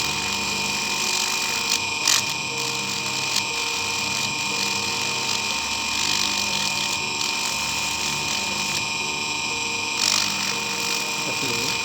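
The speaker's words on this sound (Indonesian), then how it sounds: "Pertama kita amplas di dalamnya seperti ini." Fine sandpaper, grits 360 and 500, rubs around the inside of a handmade brass flower ring. It gives a continuous raspy scraping with a high tonal hum in the background and small knocks now and then.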